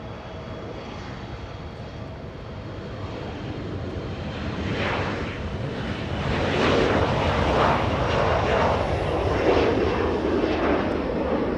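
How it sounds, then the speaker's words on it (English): SkyWest Embraer E175 regional jet taking off from Los Angeles International Airport for Phoenix, its engine roar building and growing louder about halfway through as the aircraft climbs away. "That's an Embraer E175 flying to Phoenix, Arizona."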